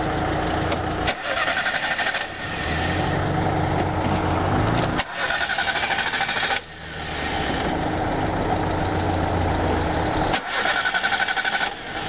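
A car engine flooded in a spring 2010 high-water event is cranked and run in several long stretches, a steady loud roar broken by brief pauses near the start, middle and end.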